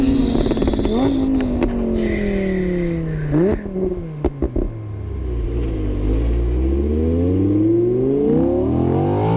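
A taxi car drives along in Minecraft, its engine hum sliding up and down in pitch as it speeds up and slows, with a few brief clicks midway and a low rumbling drone building toward the end.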